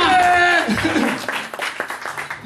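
Audience applause for the Osteria del Viale, brief scattered clapping from a small crowd that follows a spoken voice and then thins out into uneven claps.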